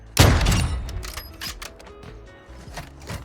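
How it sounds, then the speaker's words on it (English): Call of Duty MWII gunfire: a loud close blast opens, then a quicker scatter of sharper distant shots and clicks trailing off under game ambience. "Where's the shots coming from, dude?"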